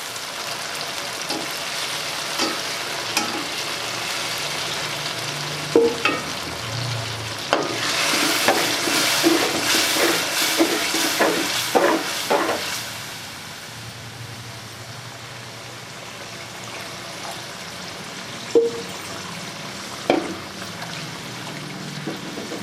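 Water poured into a pan of potato and egg curry makes a loud sizzling hiss that settles into a bubbling simmer, with occasional clinks and stirring scrapes against the pan.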